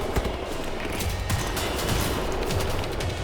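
Rapid anti-personnel weapon fire in the first-person shooter Wolfenstein: The New Order, sustained dense bursts with no gaps, loud and close throughout.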